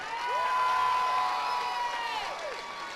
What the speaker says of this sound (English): Give them a great big hand